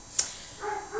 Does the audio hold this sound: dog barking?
yes